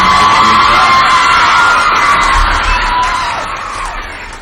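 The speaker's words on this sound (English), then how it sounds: "Let's give another big round of applause for all of our contestants." A pageant audience at a town festival applauds and cheers for the contestants, a loud sustained wash of clapping and whoops that slowly fades toward the end.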